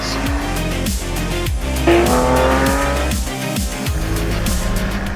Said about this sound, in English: driving over the metal potholes at 40 kilometers an hour